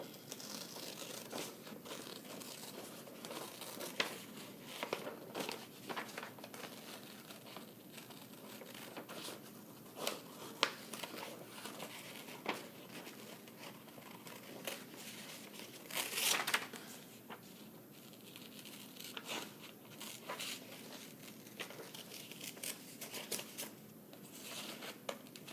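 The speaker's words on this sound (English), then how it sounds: "Okay, so now we're going to cut this out." Paper being cut out by hand for a Valentine's Day wall art piece, with steady close crinkling and snipping that continues unbroken and without talk, plus a brief louder rustle about two-thirds through.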